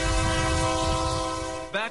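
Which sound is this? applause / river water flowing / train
train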